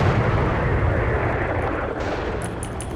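Tank gunfire and explosions from the Steel Beasts game, a T-72B3 company battling an M1A2 platoon: dense, continuous booming rumble of heavy cannon fire and blasts, loud and sustained, with a few sharper cracks near the end.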